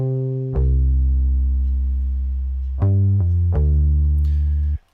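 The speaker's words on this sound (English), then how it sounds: "I still didn't think it was dirty enough for the song, so I added a decapitator." Lo-fi hip hop beat run through a Decapitator saturation plugin for extra dirt: sustained, heavily distorted harmonic chords that shift at two points, loud and steady throughout before cutting off abruptly near the end.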